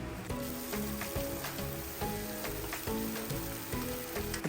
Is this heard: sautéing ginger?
yes